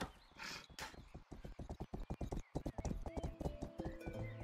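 Galloping horse hooves in the video game Rustler, a fast, steady clip-clop rhythm up close, opening with a short whinny and running on with faint background game sounds.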